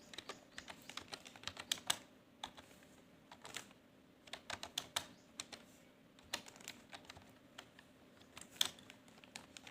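Computer keyboard typing out a PowerPoint slide title: quiet, irregular clusters of key clicks, close by, with short pauses between bursts and no talking.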